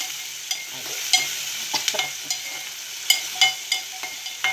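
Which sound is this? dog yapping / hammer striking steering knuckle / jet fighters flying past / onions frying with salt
onions frying with salt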